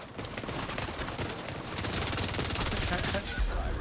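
Dense, continuous automatic gunfire from The Division 2, rapid rounds rattling nonstop and growing louder partway through, with a brief voice beneath.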